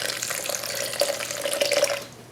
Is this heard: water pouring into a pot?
yes